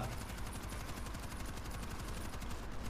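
An automatic turret in the video game World War Z Aftermath fires nonstop, a dense, steady stream of rapid gunfire at a constant level with no pauses and no voices.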